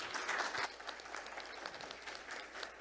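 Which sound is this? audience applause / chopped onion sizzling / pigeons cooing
audience applause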